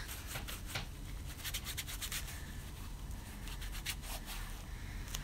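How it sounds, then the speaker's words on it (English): A finger spreads Dina Wakley acrylic paint across material, making a faint, close, steady rubbing with quick repeated strokes like soft sanding. "I'm just going to put some paint directly on my material, and I'm using my trusty finger"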